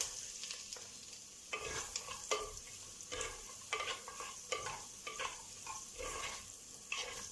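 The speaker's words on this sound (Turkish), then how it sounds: "soğanlarımız, havuçlarımız kavrulmaya devam ediyor" Onions and carrots sauté in a pan for a celery dish with orange and quince, giving a continuous soft sizzle broken by regular stirring scrapes, close and fairly quiet.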